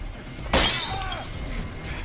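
A glass pot smashes over someone's head in a film scene: one sudden loud shattering crash, then a brief ringing tinkle of glass fading out.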